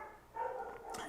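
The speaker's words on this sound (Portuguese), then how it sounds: "tá cachorro latindo, gente, cachorro latindo" A single short dog bark sounds faintly at a distance, briefly rising and fading.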